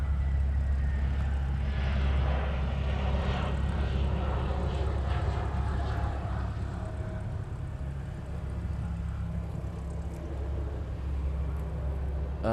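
A Boeing 747 airliner flies overhead near Honolulu, Hawaii, a loud, sustained engine roar with a low rumble that fades slightly toward the end, no talking over it.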